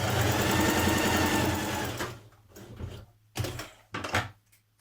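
A sewing machine runs a fast continuous whirring stitch along the underarm seam of a dress sleeve, then stops and restarts in two short bursts, close and clear with no talking.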